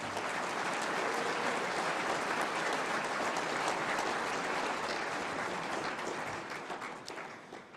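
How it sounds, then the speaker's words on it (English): Guests at a recognition dinner give sponsors a sustained round of applause, a dense, even roar of clapping that tapers off slightly toward the end. "Let's give them a round of applause as well."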